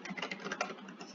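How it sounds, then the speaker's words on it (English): Faint, quick clicking of keys on a computer keyboard, a brief burst of typing with no talk. "so let me try typing that again."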